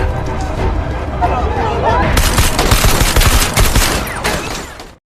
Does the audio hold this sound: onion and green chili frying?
no